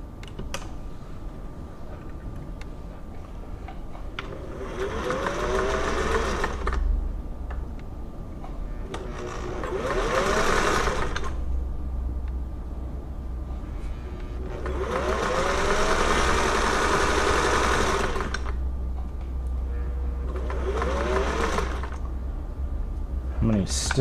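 Singer 401A sewing machine sewing a stretch zigzag stitch, its motor whirring and needle clattering rapidly in four separate bursts with short pauses between them, while a person talks quietly.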